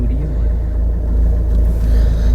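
A 2017 Mahindra XUV500 W6 diesel automatic idles close by with a steady, loud low rumble that holds without change, with no talk over it.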